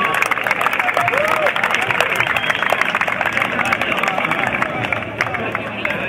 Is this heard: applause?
yes